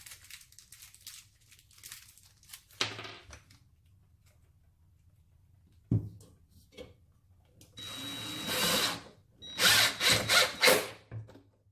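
Power drill driving H11 screws into a ball entry shield during game table assembly, several short whirring bursts separated by quiet pauses, the last ones louder and longer, close by.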